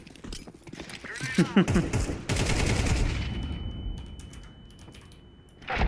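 Tec-9 gunshots in an online shooter game, a quick burst of close, sharp shots followed by rapid mechanical clatter, with players talking over it.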